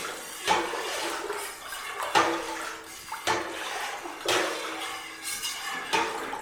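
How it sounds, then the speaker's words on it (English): A sanitized utensil stirs orange juice into a gallon batch of corn wine, giving several scraping, sloshing strokes against the vessel at close range with no talk. "giving it a nice little stir with our freshly sanitized utensil here"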